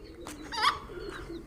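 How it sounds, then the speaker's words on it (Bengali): Pigeons kept with ducks and chickens on a desert farm in Saudi Arabia coo softly at morning feeding time. The burst of cooing is brief and close, with light background noise. "কবুতরের অবস্থা দেখুন, খাওয়ার জন্য পাগল হয়ে আছে।"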